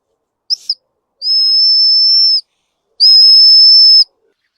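The whistle built into a 17-in-1 multifunction pocket knife gives a shrill, piercing tone: a quick double chirp, then two loud sustained blasts, alone and close by.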